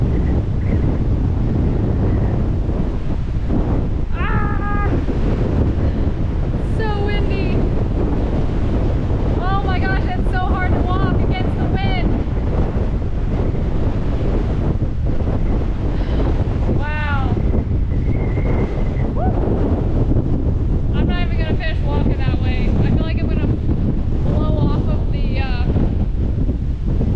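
Strong hurricane wind roars steadily at the coast, buffeting the microphone, while surf churns underneath and birds call intermittently through the gusts.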